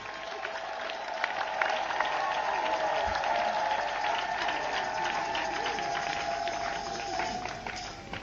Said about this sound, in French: Applaudissez pour tous les acteurs du sanctuaire